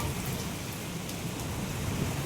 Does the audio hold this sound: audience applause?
no